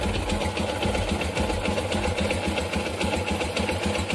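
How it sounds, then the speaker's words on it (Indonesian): A motorcycle engine with an air hose modification runs at idle close by, a steady rapid mechanical chatter with a fast even pulse throughout. "Kita cek aja ya, kita nyalakan mesinnya geng."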